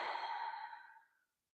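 Deep exhalation during yoga relaxation in Shavasana, a single soft breathy sigh out, close and quiet, fading away after about a second into silence.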